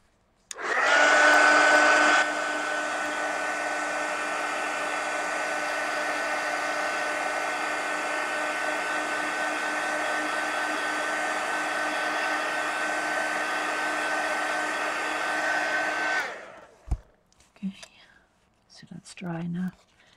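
A hair dryer blows on a pink and purple collage art card, a loud continuous whirring hum up close for about sixteen seconds before switching off, followed by faint handling noises.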